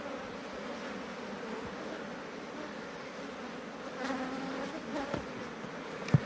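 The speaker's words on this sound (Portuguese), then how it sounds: "Então a gente vai deixar quietinho esse enxame." A honeybee swarm in a hive full of honey-laden frames gives off a steady, dense buzzing hum close by, with faint knocks near the end and no talk.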